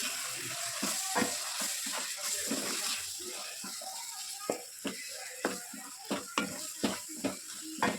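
Egg rice frying in a pan with a steady sizzle, while a spoon or spatula stirs it with a run of sharp scrapes and knocks against the metal that grow more regular toward the end, close and moderately quiet.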